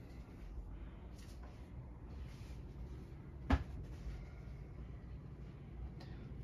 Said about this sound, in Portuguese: Os armários aéreos.